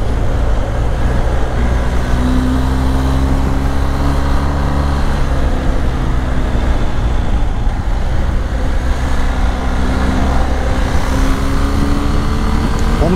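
Steady loud engine and road roar from a BMW R 1250 GS Adventure motorcycle cruising at speed on the BR-101 highway, with wind rush and a faint rising and falling engine tone throughout.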